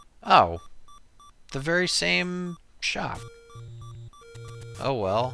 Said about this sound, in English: I set an alarm on my phone and I haven't figured out how to turn it off.